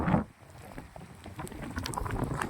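Outdoors among farm fields, gusty wind buffets the microphone while rain patters steadily, a soft rushing wash with a stronger gust at the start.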